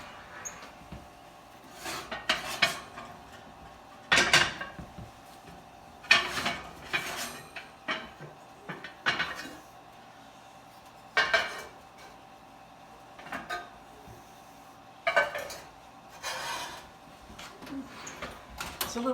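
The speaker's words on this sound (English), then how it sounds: "we're ready to take the pans out of the oven and put the dough into the pans" Metal bread pans for no-knead bread being taken hot from an oven and handled, with scattered clanks and knocks spaced out across a quiet kitchen, some close and sharp, others softer.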